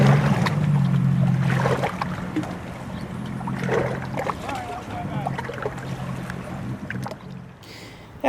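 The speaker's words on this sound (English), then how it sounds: "as the waves crash in, you can see it's less peaceful and comfortable for the beaver than it was before." Wake waves from a passing Sea-Doo wash and crash against rocks along a river, a continuous churning splash with a low engine drone underneath and no speech.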